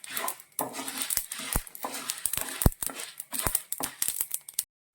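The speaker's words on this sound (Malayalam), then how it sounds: "ഇത് നന്നായിട്ടൊന്ന് റോസ്റ്റ് ചെയ്തത് ബ്രൗൺ കളർ ആവുന്നത് വരെ ഇതിലിങ്ങനെ നമ്മൾ ഇളക്കിക്കൊണ്ടേയിരിക്കണം" Dried red chillies roasting in a pan while being stirred, busy dry rattling and scraping with sharp metallic knocks against the pan, close up, ending abruptly in silence.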